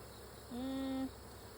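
A single honeybee or drone hums past at an open backyard hive, a brief, steady, fairly close buzz lasting about half a second against quiet background noise.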